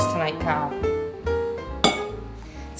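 A glass pie dish clinks against metal while baking pies in a home kitchen, several bright ringing taps and clatters at irregular intervals, heard close.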